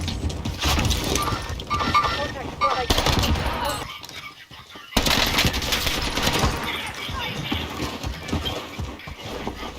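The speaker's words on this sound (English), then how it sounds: "I'm taking fire!" Rapid bursts of gunfire crackle through a video game firefight, dense and loud with short gaps and one brief lull, with a player's voice talking over the shooting.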